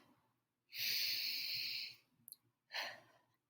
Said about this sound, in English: Everybody take a deep breath.